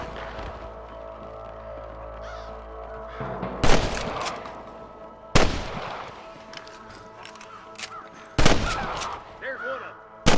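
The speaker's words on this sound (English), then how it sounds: "I can hear more gunshots." Gunfire in the western video game Red Dead Redemption: several sharp, loud shots crack out at irregular intervals over a low droning background.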